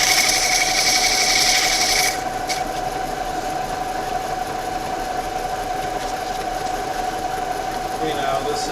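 Sandpaper smooths a handmade wooden ring with a continuous close abrasive rasp over a steady underlying hum, slightly louder in the first two seconds.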